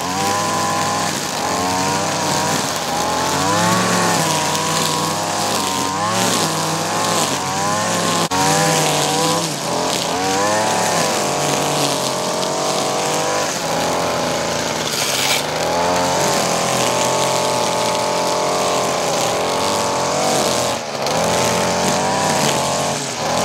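A Stihl FS 56RC brush trimmer's small two-stroke engine buzzes loudly and close, its pitch rising and falling as the throttle is worked, sustained throughout without talk.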